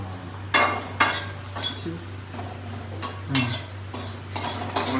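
Sliced onions sautéing in a pan while a utensil stirs them, bringing repeated scraping clinks against the pan every half second or so, close and clear over a faint sizzle.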